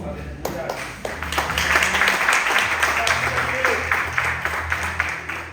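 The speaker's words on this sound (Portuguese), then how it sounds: "aplauda o Senhor" A church congregation applauds during a Portuguese-language service, steady clapping sustained for several seconds with voices and music running underneath.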